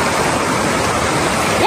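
A swollen village stream in flood rushes loudly and steadily, a broad continuous roar of churning water close by with no clear voices over it.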